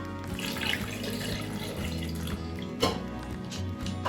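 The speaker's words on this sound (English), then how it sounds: "We're going to add in 1 cup of skim milk," Skim milk poured into a blender for a peanut butter banana smoothie, a steady liquid stream splashing with a few drips, close and moderately loud.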